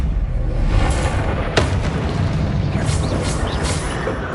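The Bombarda blast spell goes off in Hogwarts Legacy during combat. A sharp, loud boom is followed by rumbling debris over continuous low battle noise, then fainter crackling bursts.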